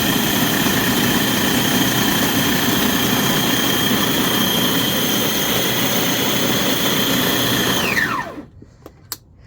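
An electric appliance grinds oats at full speed 15, a loud steady whine and roar for about eight seconds before spinning down abruptly into near silence.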